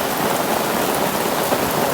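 Heavy rain pours steadily at a campground, a dense, even hiss of drops close by and filling the whole clip, with no voices.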